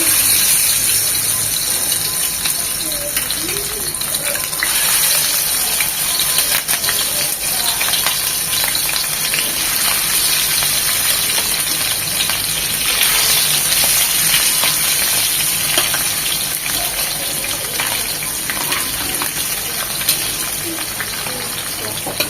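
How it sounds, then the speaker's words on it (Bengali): Meni fish sliding into hot oil and frying, a loud, steady sizzle and crackle that fills the whole stretch with no voices over it. "তেলটা গরম হয়ে এসেছে দিয়ে দিচ্ছি মাছগুলি"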